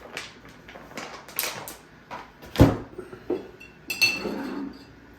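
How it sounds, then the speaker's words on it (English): A spoon stirs salt into a vinegar-and-water pickling brine for pickled eggs, making close, irregular clinks and scrapes against the container with brief pauses between them. "And I'm going to give that a stir."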